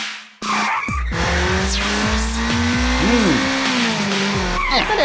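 A cartoon auto rickshaw slows down at a traffic signal, its tires skidding in a run of loud, close squeals over a droning engine, with sliding pitch sweeps and a brief pause at the start.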